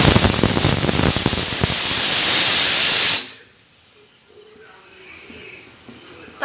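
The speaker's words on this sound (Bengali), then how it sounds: "প্রেসার কুকারে 4টে সিটি পড়ে গিয়েছে" Pressure cooker boiling makhana lets out a loud, harsh hiss of steam for about three seconds, then cuts off abruptly, leaving a quiet kitchen.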